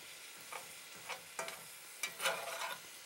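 Meat frying in butter with sugar in a pan, a quiet steady sizzle with several scraping stirs of a utensil spaced through it.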